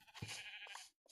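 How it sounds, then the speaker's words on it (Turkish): A single bleat from a sheep in a video game, close and clear, lasting under a second and followed by a brief silence. "Koyun! Koyun bizim."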